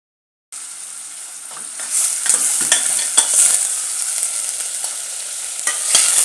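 Chopped onions sizzle and crackle steadily in hot oil for a fish curry, with brief scraping stirs of a spoon in the pan, close and fairly loud, no voices.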